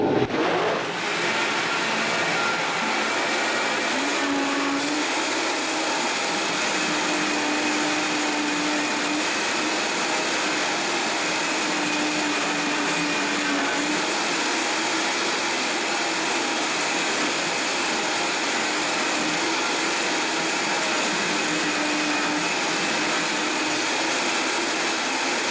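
A blender whirs at high speed through raw vegan pumpkin pie filling, a loud, steady motor roar that starts abruptly and runs continuously close by.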